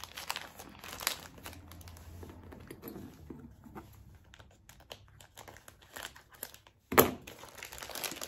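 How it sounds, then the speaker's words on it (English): Paper and packaging from an unclaimed mail box crinkle and rustle in short bursts, with light tapping and handling noises and one sharp loud tear or crunch near the end. "I'm so scared I'm gonna open like rip something in the inside with the scissors."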